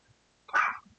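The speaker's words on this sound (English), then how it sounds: "That's my dog in the background." A dog gives a single short bark in the background of an indoor room, brief and fairly faint, with no talk over it.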